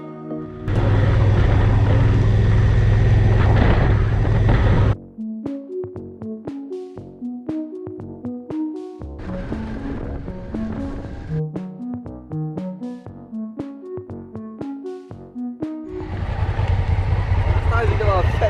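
A touring motorcycle riding along the Mediterranean coast of Morocco, its engine a loud broadband roar at first and again at the end, with someone talking over the middle stretch while the engine drones underneath.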